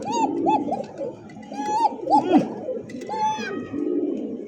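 A domestic pigeon sitting on its eggs coos close by in repeated rolling phrases, with soft overlapping calls layered beneath.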